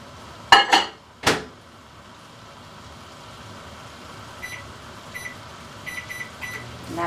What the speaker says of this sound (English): I'm going to stick that in the microwave while we're waiting.